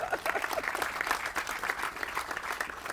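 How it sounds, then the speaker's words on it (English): A crowd claps steadily at a waterfowl center opening in Monticello, a dense patter of many hands applauding without a break. "That's a round of applause."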